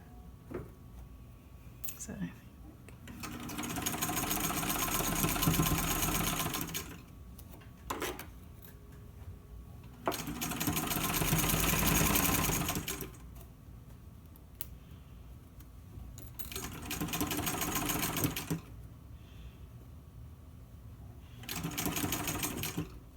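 A sewing machine runs in several sustained bursts, stitching a straight fabric edge to a curved edge with a 1/4 inch seam, with pauses between runs where a person talks close by.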